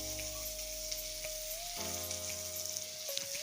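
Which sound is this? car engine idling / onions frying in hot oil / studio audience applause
onions frying in hot oil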